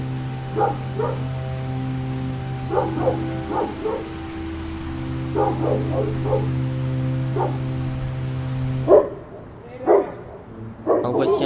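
Several short dog barks and yips on a Saturday evening in Aylmer, in quick clusters over a steady low hum with background chatter, ending in a few louder, closer barks.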